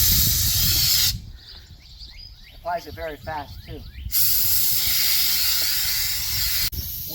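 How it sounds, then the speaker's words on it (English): An Alspray siphon gun sprays liquid wax onto a jet ski in bursts of loud hiss that stop for a few seconds while someone talks, then resume steadily. "You get a nice even spray, and this will even get in the crevices effortlessly."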